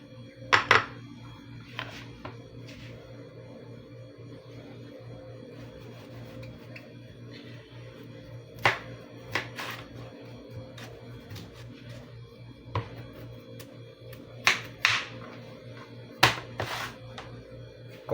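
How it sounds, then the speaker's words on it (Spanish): A knife cuts cassava into large cubes on a board, scattered sharp clacks and taps with long quiet gaps, some in quick clusters, close and moderately loud, no voices. "Como vamos a cortar la yuca en cubos grandes"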